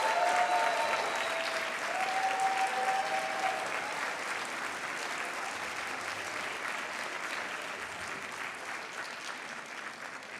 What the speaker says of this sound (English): Join me in applauding the winner of the 2017 Chris Carey Customer Service Award